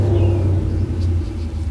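A steady low rumble of a car engine, fairly close and continuous, with a faint rising whine early on and no talking.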